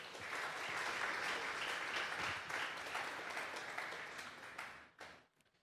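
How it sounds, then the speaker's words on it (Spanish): A church congregation at a Sunday service claps together in a loud, sustained round of applause that fills the room, then thins and fades out over the final second. "Vamos a darle un fuerte aplauso pues al Señor."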